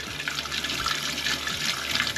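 Water rushes through an RV toilet into the black tank after the flush pedal is pressed, a steady close splashing and gurgling flow that holds for the whole stretch, with no talking.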